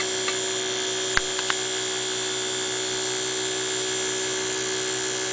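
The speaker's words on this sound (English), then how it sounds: "And second motor is running." A small fischertechnik electric motor driven by transistor PWM runs with a steady high-pitched whine and constant hum, joined by a few faint clicks and taps.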